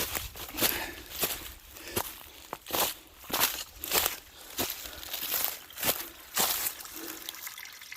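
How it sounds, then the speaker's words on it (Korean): A mountain stream trickles and babbles steadily, with irregular splashy bursts breaking through every second or so; no voices. "계곡물이 졸졸졸 흐르고 있고요"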